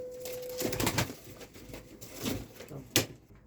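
Antique pigeons, a young double-whiskered female among them, give soft cooing calls in a short burst, with brief rustles and a sharp knock near the end, close and quiet.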